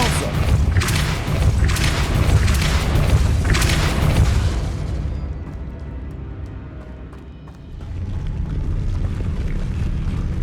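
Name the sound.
Depulso force spell cast in Hogwarts Legacy video game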